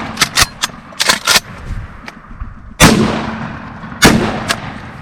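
Shotgun blasts ring out while hunting turkeys in Michigan's Upper Peninsula during the spring season: a rapid cluster of sharp, loud reports, then two heavier booms with long echoing decays, close and outdoors.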